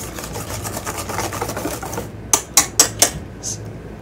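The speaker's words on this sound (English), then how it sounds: "eggs in there and kind of break those up, and whisk this together" Eggs being whisked in a bowl for an Italian rum cake: a dense run of quick scraping strokes, then four sharp separate taps of the whisk against the bowl rim, close and fairly loud.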